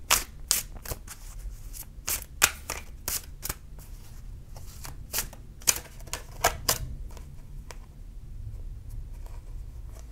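Tarot cards being shuffled and drawn from a deck: quick papery riffles and sharp card snaps in uneven bursts, close and clear, with no talking.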